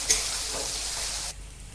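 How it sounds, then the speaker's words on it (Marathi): Onion and garlic paste sautés in a pan with a dense, steady sizzle and a faint stir, close by, which stops abruptly near the end and leaves a quiet room tone. "छान परतून घेऊया आता कांदा लाल होईपर्यंत"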